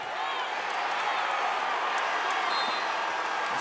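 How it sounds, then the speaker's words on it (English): Crowd on its feet cheering at a college wrestling match between North Carolina and NC State, a steady roar of voices and applause held at one level throughout. "This crowd on its feet"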